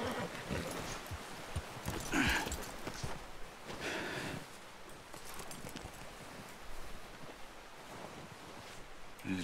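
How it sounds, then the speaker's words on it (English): Horse hooves clip-clop at a steady riding pace in Red Dead Redemption 2, soft and mid-distance under a constant wash of wind and rustling ambience. "You're riding a horse."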